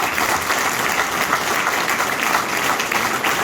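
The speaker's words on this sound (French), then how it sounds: "Encore les applaudir." An audience at a tribute concert for musicians applauds with dense, sustained clapping that holds at an even level for the whole stretch, close and full with no pauses.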